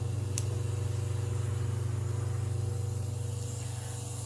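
A Quantum Fuel Systems 255LPH electric fuel pump in a Chevrolet Cavalier fuel tank hums steadily with a low, even drone and faint hiss, running continuously at close range.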